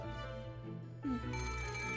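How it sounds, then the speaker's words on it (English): Telephone ringing with a steady electronic bell tone, fairly faint and continuous under a music backdrop, no voices. "apparently uninterested in the still ringing phone"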